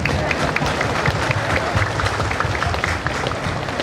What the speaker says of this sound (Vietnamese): Chúng ta vỗ tay đi.